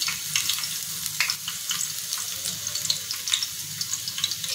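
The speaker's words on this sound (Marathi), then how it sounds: "ती लसूण आपण तेलामध्ये टाकतो ना" Crushed garlic, pounded with a grinding stone, frying in hot oil, giving a continuous close sizzle dotted with sharp crackles and pops.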